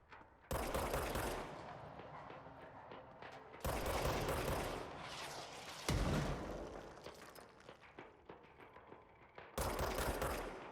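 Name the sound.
enemy rifle gunfire in the video game Control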